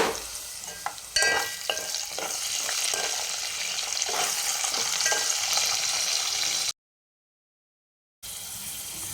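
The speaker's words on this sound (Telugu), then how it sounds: "వేడెక్కిన తర్వాతకి కొద్దిగా ఆవాలు, జీలకర్ర, కరివేపాకు, ఉల్లిగడ్డ, ఒకటి పచ్చిమిర్చి వేసుకోండి, 2 వెల్లుల్లి వేసుకోండి." Mustard seeds, cumin, curry leaves, onion, green chilli and garlic fry in hot oil with a loud, steady crackling sizzle and stirring scrapes close by. The sound cuts to silence briefly near the end, then returns.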